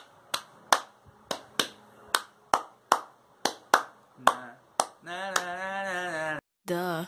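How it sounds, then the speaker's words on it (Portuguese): Rhythmic hand claps open a song, about a dozen sharp, evenly spaced claps ringing clearly before a sustained sung or synth tone takes over near the end. "ela tem um começo bem legal, que é umas palmas"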